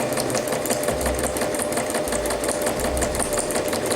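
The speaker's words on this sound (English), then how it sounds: "I continue sewing" A home sewing machine stitches steadily forward after a reverse backstitch, its needle chattering in a fast, even rhythm with a low motor hum, close and continuous with no talking.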